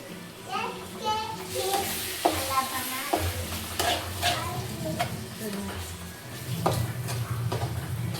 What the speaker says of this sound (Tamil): இப்போ முழுசாக இருக்க தக்காளிலாம் நல்லா மேஷ் ஆகிற அளவுக்கு நல்லா வதக்கி விட்டுக்கோங்க.